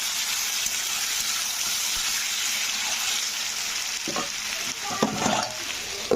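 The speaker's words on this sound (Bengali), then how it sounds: "দিয়ে এটাকে আবারও আমি একটু কষবো" Aloo posto, Bengali potatoes in poppy seed paste, sizzles steadily in a pan after salt is added, with a few louder scraping stirs near the end and no talk.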